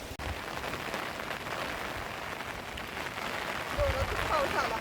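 Steady rain patters on surfaces, soft and continuous, with a sharp knock near the start and a few faint chirps toward the end.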